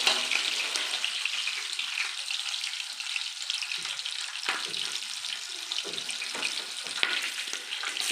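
Green chillies fry in a pan with onions for chicken biryani, giving a continuous bright sizzle close by, broken by occasional scraping stirs, with no voices.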